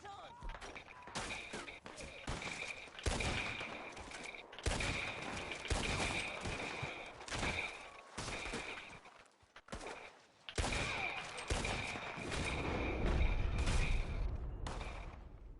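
Rapid, dense gunfire in the video game GTA, sustained bursts of shots and loud crackling fusillades continuing almost without pause, with a voice talking intermittently over the din.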